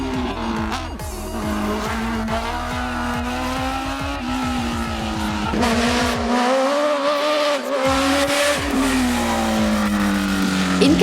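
Hill climb race cars at Morne Raquette are driven hard on a slippery road, engines revving high and shifting through gears with squealing tires, loud and continuous under faint commentary.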